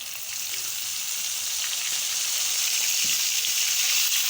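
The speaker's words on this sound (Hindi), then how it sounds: "अब इसमें जाएगा अदरक लहसुन का पेस्ट।" Ginger garlic paste fries in hot oil for a chicken biryani, giving a steady, close, loud hissing sizzle that holds evenly throughout, with a faint stir or two and no voices.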